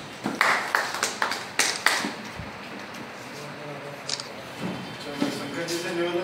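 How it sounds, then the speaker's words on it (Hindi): Scattered hand claps from a gathering of teachers at a Rajasthan teachers' association meeting, welcoming a respected teacher; sharp, fairly close claps in a loose rhythm for about two seconds, then a few isolated taps. "जोरदार ताली से स्वागत करें आदरणीय तिवारी साहब का"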